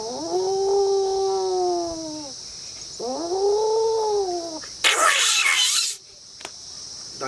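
A voice imitates two cats fighting, with drawn-out rising and falling yowls and caterwauls in two long bursts, close and loud, followed by a short harsh hiss.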